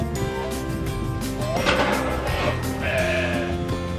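Sheep on a farm bleat loudly in a couple of drawn-out calls, near and overlapping amid a busy, cluttered outdoor background.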